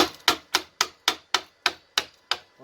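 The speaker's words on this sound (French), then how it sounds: "Là on va prendre le petit marteau." A small hammer chips slag off a fresh arc weld with about nine sharp, close taps. The strikes fall in a steady, even rhythm with no one talking.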